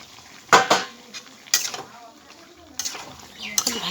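Soybeans stirred in a metal pan, a utensil scraping and clanking against the pan in several sharp bursts with a faint sizzle underneath, close and fairly loud.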